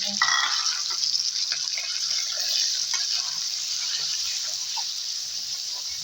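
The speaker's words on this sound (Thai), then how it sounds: "ใส่หมูลงไปได้แล้วพี่น้อง" Minced pork stir-frying in a pan for Thai fried rice gives a loud, steady sizzle that fills the whole stretch, with faint scraping stirs underneath and no talking.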